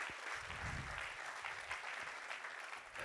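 An audience claps for two badminton players after a singles demonstration at an event, a steady wash of applause that holds at a fairly even level for the whole stretch.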